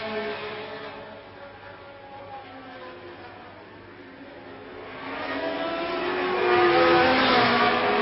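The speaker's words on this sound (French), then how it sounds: "c'est là qu'on voit quand même que la Ferrari accélère davantage" A 1971 Ferrari Formula 1 car accelerates at the Dutch Grand Prix, its engine note swelling from a steady drone to a louder, rising howl near the end, heard alone without voices.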